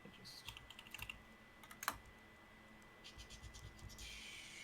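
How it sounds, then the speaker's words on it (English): Typing on a clacky mechanical computer keyboard produces quick, irregular bursts of sharp key clicks, close and fairly quiet, with brief pauses between flurries. "I love my clacky keyboard, but everyone can hear what I'm typing."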